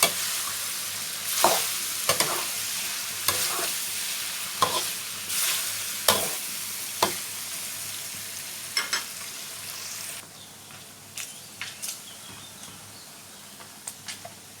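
Pork fat sizzles steadily in a pan as it renders down into lard, with sharp scraping clicks from stirring popping out every second or so, close and fairly quiet, with no talking.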